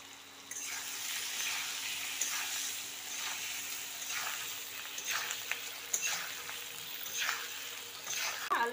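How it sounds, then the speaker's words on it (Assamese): Potatoes frying in a pan give a soft, steady sizzle with repeated bursts of crackle as they are stirred, fairly quiet and close, with a steady hum underneath. "আলুখিনি ফ্ৰাই কৰা হ'ল"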